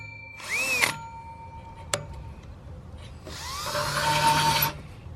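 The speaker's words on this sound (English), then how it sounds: "This drill bit's horrible." A power drill whines in two bursts as a rusted drill bit bores, a short one and then a longer grinding run, with a sharp knock in between.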